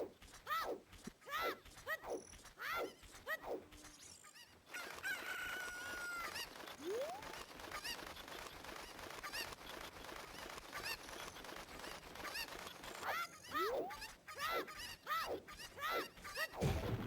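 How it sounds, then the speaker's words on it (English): Cuckoos, the chicken-like birds of a Zelda game, cluck and squawk repeatedly in Kakariko village during a competitive speedrun, with bursts of crowing cries over a busy bed of game sound effects. "Very specific placement of where you throw each Cuckoo."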